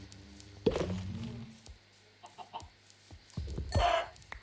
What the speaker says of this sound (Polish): O, kurczak, kurczak.